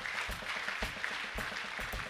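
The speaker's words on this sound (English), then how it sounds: "you want to give the applause while standing, or do you want to give it after you've sat down?" A university audience applauds after an inaugural lecture, with steady, fairly quiet clapping and a few sharper individual claps standing out from the crowd.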